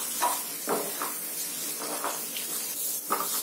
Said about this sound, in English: I am roasting this onion to